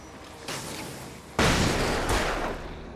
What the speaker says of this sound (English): Flashbang now.